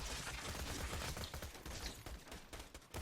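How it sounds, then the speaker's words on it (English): Rapid automatic gunfire from a Bandit assault rifle fitted with a Torque barrel in Borderlands 2, a dense, continuous burst of loud shots over roughly three seconds with no talk. "Basically the bandit assault rifle with a torque barrel."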